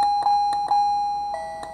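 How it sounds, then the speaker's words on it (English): A SECRUI wireless doorbell chime rings with a sustained bright electronic tone, struck by a few soft repeated pulses, loud and close with no talking. "Each sensor is the exact same chime."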